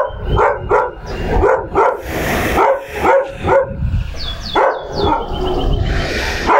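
A dog barks repeatedly in a loud, close series of rapid yaps and barks, with a few whimpering, high-pitched yips mixed in toward the end, heard alone without talk.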